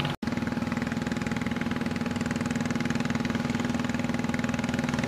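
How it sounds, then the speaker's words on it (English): Small outboard motor on a canoe running on a bay near Ilhabela, a steady close chugging drone with a fast, even pulse throughout. "The guy with a canoe with a motor in it."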